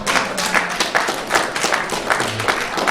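Scattered applause from a small audience at a lecture, a few dozen people clapping steadily and fairly close for a few seconds with no talk over it.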